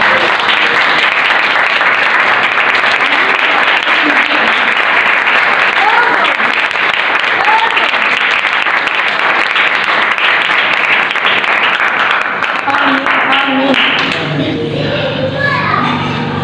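A church congregation claps for themselves during a sermon, a sustained dense round of applause with a lively crowd and children's voices mixed in, fading as it ends.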